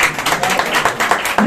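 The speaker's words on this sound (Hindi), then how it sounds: "लेकिन आपकी तालियों का साथ चाहिए" Indoor audience applause at a garba festival in North Mumbai, a short, dense, loud burst of many hands clapping.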